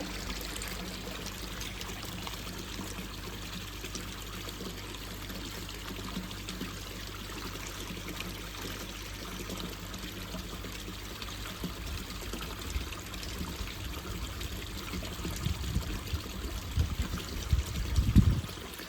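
Water streams steadily from a hose pipe into a garden pond to top it back up, a continuous close rushing pour that swells and grows busier toward the end.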